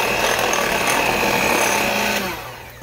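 An electric mixer runs on low speed blending a dough for Blarney Stones, giving a steady, loud whirring drone that holds for about two seconds before tapering off at the end.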